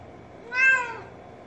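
A cat gives a single clear, drawn-out meow inside a car on a road trip, close and moderately loud over steady low road noise, with no talking.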